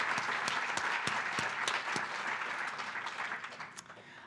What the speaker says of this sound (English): all of us, again, ought to give a rousing round of applause